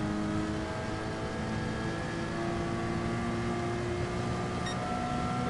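A Gr.4 race car engine at full speed on a lap of St. Croix B in GT Sport, a loud continuous high-revving drone with steady harmonic tones and no talking.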